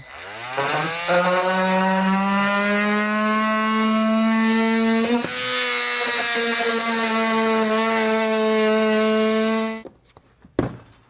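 A power cutting tool trims out a plastic trailer hitch cutout panel on a 2016 Jeep Cherokee, a loud sustained whine that dips briefly under load, then stops abruptly, leaving a few clunks.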